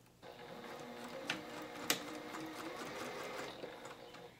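Sewing machine stitching around the edge of a fabric lovie, a steady close mechanical whir with a couple of sharp clicks as the fabric is guided around.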